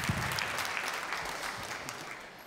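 An audience at a stand-up comedy show claps in a dense, continuous burst that stays fairly even before easing off slightly toward the end, heard alone without any talk.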